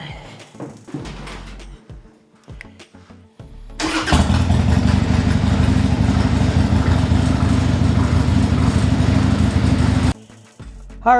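1998 Harley-Davidson Sportster motorcycle, a few clanks before the engine cranks and fires into a loud, steady, close-up rumbling idle for about six seconds, then cuts off before a brief restart.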